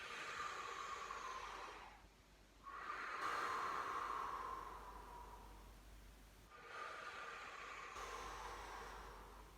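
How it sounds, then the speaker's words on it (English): Slow, deep breaths during a doggie yoga and stretching session: two long airy inhales, each followed by a pause, close and soft with no talk. "Deep breath in."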